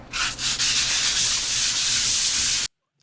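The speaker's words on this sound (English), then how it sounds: "Come and sand it off. all the spots that were rough." Steady dry rasp of 220-grit sandpaper worked by hand across a cured concrete countertop, close and continuous for nearly three seconds with a couple of brief stroke breaks at the start, then stopping abruptly.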